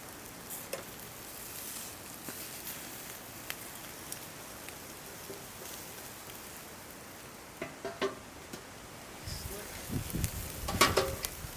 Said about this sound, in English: Sear the other side.